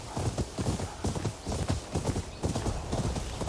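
Horse hooves galloping in the video game Ghost of Yōtei, a fast steady drumming of heavy thuds, close and loud, with a faint whinny-like tone mixed in and no talking.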